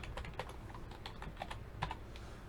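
Keys on a computer keyboard are tapped in a quick, uneven string of soft clicks nearby, fairly faint, with no talking.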